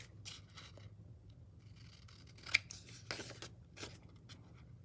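Scissors snipping paper while cutting out 3-D paper ornaments, quiet close-up crisp cuts and soft rustling scrapes in short uneven bursts.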